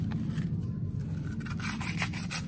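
A Honda Scoopy FI CVT component being sanded by hand with fine sandpaper, a steady close rubbing and scraping with no talk.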